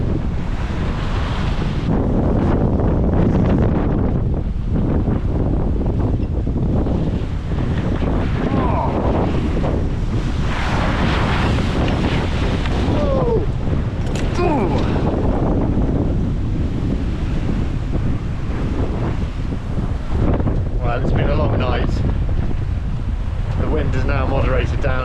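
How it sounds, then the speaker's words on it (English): Strong 40-knot gale buffeting a sailboat on the open Atlantic, steady loud roar of wind on the microphone with surging waves and hull rushing through water, continuous throughout. "Got about 40 knots of wind."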